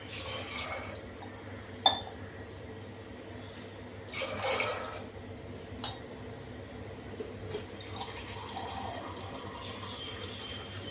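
Water is poured from a glass into a pressure cooker holding chickpeas: a few sharp clinks of glass against metal, then short gushes of pouring and splashing, fairly quiet and close.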